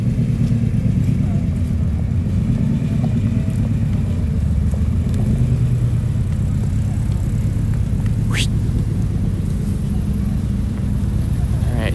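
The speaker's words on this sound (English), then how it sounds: "Oh, look at that car." A car passes along a Tokyo street lined with cherry blossoms near a shrine, its steady low engine and road rumble filling the scene, with a person talking over the traffic noise.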